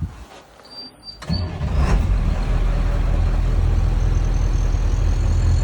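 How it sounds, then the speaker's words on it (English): A Class B truck's engine cranks briefly and catches, then settles into a loud, steady low diesel idle that continues without talk to the end. "Now we are going to safe start the vehicle."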